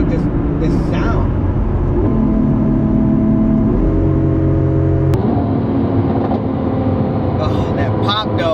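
Lamborghini SVJ supercar engine holding a loud, steady drone that climbs in pitch in a few distinct steps, with a sharp exhaust pop near the middle, close and continuous from start to end.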